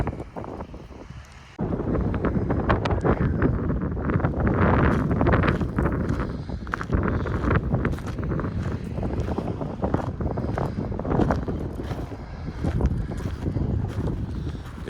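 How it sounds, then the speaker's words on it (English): Strong wind buffets the microphone outdoors at a former phosphorus slag dump beside a mall demolition site, a dense continuous rumble that starts abruptly and stays loud throughout with gusty surges. "It's windy as usual"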